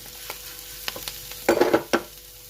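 Leaves being stir-fried in a pan until their raw greenness cooks off, a soft sizzle with a few light scraping stirs early, then a louder burst of clattering stirring and frying near the end.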